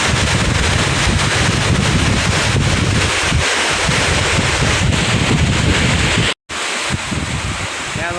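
Strong wind blasts and large waves roll at Manila Bay near a dike, a loud, rough, continuous roar with heavy wind buffeting against the microphone and a brief dropout near the end.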